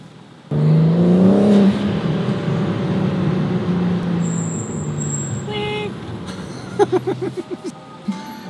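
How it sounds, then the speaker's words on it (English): A loud BMW M4 G82 engine roars and revs from close by, with a rising growl, then a string of sharp exhaust pops and crackles near the end. "my exhaust is so loud did you hear that"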